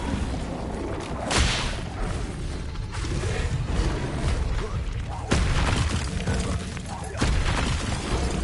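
Flipendo spell cast in the Hogwarts Legacy video game: loud whooshing bursts and booming impacts land at intervals over a dense, busy backdrop of battle effects.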